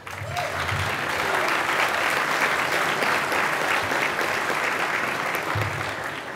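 A banquet audience applauds loudly and steadily, dense clapping that holds for several seconds before tapering off slightly at the end.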